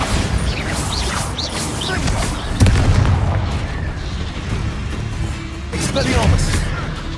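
Bombarda blasting spell from the video game Hogwarts Legacy, a booming explosion with rumbling low end, bursts recurring several times over continuous game noise amid combat.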